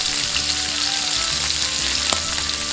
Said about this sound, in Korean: 새우에 후추 소금 간을 해주고 표면이 잘 익게 잘 뒤집어준다